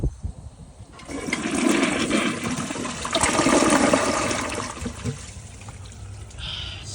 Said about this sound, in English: Now let's try it on the more water setting.